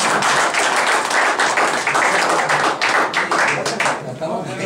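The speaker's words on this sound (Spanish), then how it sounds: "un aplauso por su actuación" Loud, dense applause from a crowd at a boxing council event, a close, continuous roar of many hands that thins out toward the end.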